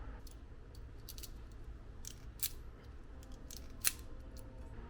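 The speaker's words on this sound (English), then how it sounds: "Super simple, strip your wires, crimp your pins on" Small snips and clicks from stripping wires and crimping connector pins for an off-road light bar install, a few sharp isolated cuts and crimps over a quiet background hum.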